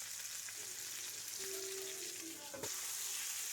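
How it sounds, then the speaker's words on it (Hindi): Whole fish frying in a little oil in a pan gives a steady, quiet sizzle with faint hissing throughout. "इसमें थोड़ा सा तेल डाला और मछलियाँ एक-एक करके बिछा दी"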